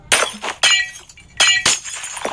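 Glass shattering in the video game Minecraft: four loud, crisp breaking bursts, each a bright crash with a tinkling tail, arriving in two quick pairs.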